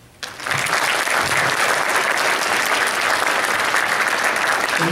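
Sustained audience applause welcoming the speakers at an evening Common Core forum, a crowd clapping steadily and loudly from the first moments to the end, with no voices above it.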